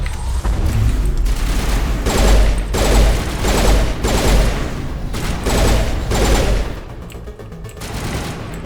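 Rapid bursts of gunfire in the game Mass Effect, loud repeated volleys in a steady rhythm of roughly one-second bursts, tapering off at the end.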